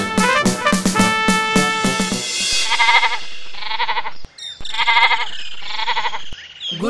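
Cartoon goat bleats ring out in a quick series of loud, quavering calls, the first burst dense and overlapping, followed by shorter separated bleats, with no talk.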